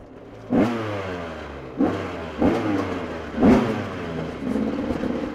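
A freshly repaired GasGas motorcycle with an old carburetor revs hard in four sharp bursts, each climbing quickly and then settling into a steady, loud mid-pitched drone close to the listener.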